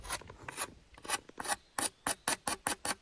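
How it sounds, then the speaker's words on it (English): Rough, rhythmic scraping of a wooden spear's edge against a coarse stone, repeated strokes speeding into a steady back-and-forth, close and fairly loud with no talking. "I've just been grinding and sanding"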